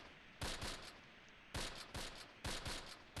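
Short bursts of distant machine-gun fire in the Close Combat war game, three clusters of rapid shots spaced about a second apart, faint and without talk.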